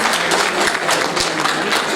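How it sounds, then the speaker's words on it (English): Steady applause from a crowd at a political parties dialogue, dense clapping filling the whole stretch at an even level with no voices standing out. "Let's give NFP a big round of applause."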